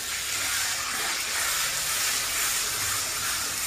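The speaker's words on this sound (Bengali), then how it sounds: "তো তার জন্য আমি আদা রসুনের পেস্টটাকে একটু ভেজে নিচ্ছি।" Ginger garlic paste frying in a pan gives a steady, broad hiss of sizzling oil, continuous and close with no talking.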